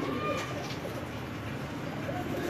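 Pigeons at a Lahore breeder's loft coo softly and repeatedly, low and steady through the whole stretch amid faint background noise, with no talking.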